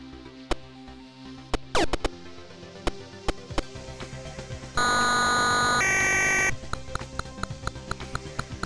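Harsh square-wave beeper drones continuously for about two seconds in a ZX Spectrum shooter, marking a power-up timer, surrounded by sharp chirpy sound effects and clicks before and after.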